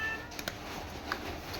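Several cats meow briefly while waiting to be fed, with two or three short, fairly faint calls over a steady low background hum.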